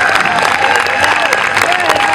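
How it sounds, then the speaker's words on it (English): Festival crowd at an outdoor hardcore show applauding and cheering, a dense, steady roar of clapping and voices throughout, close and loud. "everybody give a round of applause to every single band that's played this festival so far"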